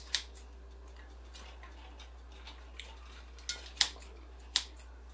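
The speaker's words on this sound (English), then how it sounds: "Cut some of these vegetables just a little bit." Knife cutting vegetables such as Brussels sprouts and mushrooms for a smoked sausage and veggie soup, with a few sharp, sparse chops and taps on a board over a low steady hum.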